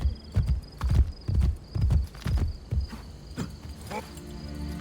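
Horse hooves clip-clop steadily in Assassin's Creed: Brotherhood (2010), a rhythmic series of close, fairly loud hoofbeats with a brief whinny-like sound near the end over faint ambient insect chirps.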